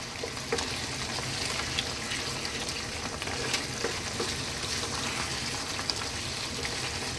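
Crispy garlic bacon tomato pasta sauce sizzles and spits in a pan while being stirred, a close continuous crackle with occasional scraping clicks.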